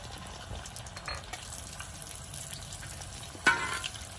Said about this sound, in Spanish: Aquí le agregamos unos dientitos de ajo para freír nuestras mojarras